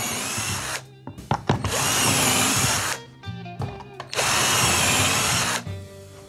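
A cordless screwdriver fitted with a drill bit bores into a workpiece in a workshop. Two long, loud, steady whirring runs are separated by a short pause filled with clicks and clatter.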